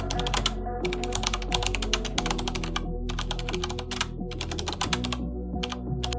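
Fingers type on a computer keyboard in quick, irregular runs of close, crisp key clicks, with a few short pauses between bursts.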